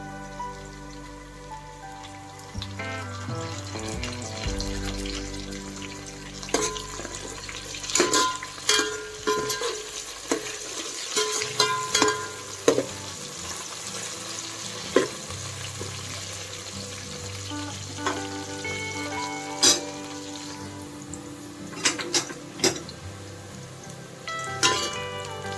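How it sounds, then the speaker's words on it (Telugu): Curry leaves frying in hot oil in a pan for Andhra-style coconut rice, with a steady close sizzle broken by bursts of sharp pops and crackles, no talking. "ఇందులోనే కరివేపాకు వేసుకున్నామండి."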